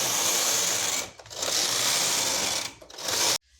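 A punch card knitting machine carriage is pushed across the needle bed while knitting rows for a baby bunny cap. It makes a loud, steady mechanical whirring swish in long passes, with brief dips between rows, then stops abruptly.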